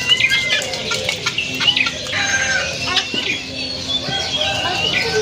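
Guinea fowl and ornamental pigeons at an animal market in Yogyakarta make busy, overlapping clucks and calls, with squawks and wing flutters scattered through a noisy market murmur.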